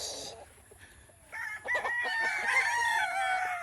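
Young gamecock stag roosters crow: after a quiet start, a loud, close, drawn-out cock-a-doodle-doo rises and holds to the end.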